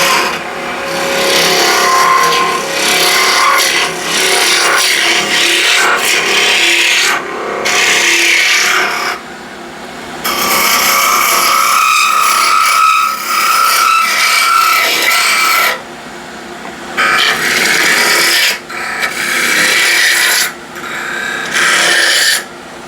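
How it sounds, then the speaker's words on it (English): A spindle gouge with a back hollow cut works an all-wood salt shaker on a wood lathe, making a loud, rough, rasping shear in long sustained bursts broken by short pauses. "a spindle gouge with the back hollow cut"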